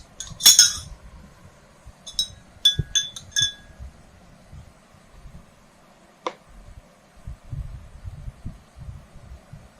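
A metal spoon clinks sharply against a bowl in several short bursts while oils are stirred together, the bright taps separated by quiet stretches with faint low handling noise.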